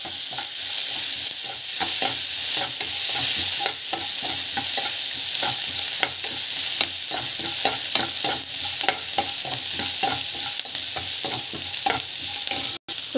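Rava upma seasoning with asafoetida and salt sautéing in a pan, a steady sizzle broken by frequent scraping stirs of a spoon, close and continuous without talk.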